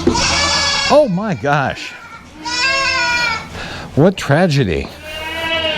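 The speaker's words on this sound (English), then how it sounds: "Now it's time for unleashing the big goats and sheep, for which I'm sure they will be quite grateful." Goats and sheep bleat loudly and repeatedly during farm morning chores, wavering cries coming in several bursts with a person exclaiming between them.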